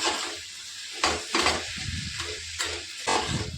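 Pumpkin and Malabar spinach chorchori being stirred and mashed in a sizzling pan, with a steady frying hiss and repeated scraping strokes of a spatula coming every half second or so, close and with no talk.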